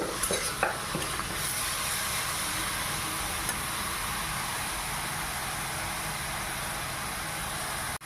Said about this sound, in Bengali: চিংড়ি মাছগুলোকে বেশ নেড়ে চেড়ে মশলার সাথে ভালো করে আমি চিংড়িগুলোকে কষিয়ে নেব